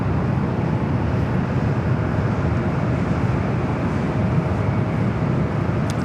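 An Air France Boeing 777 taking off at Los Angeles International Airport, a loud, continuous jet-engine roar holding steady throughout, with no voices.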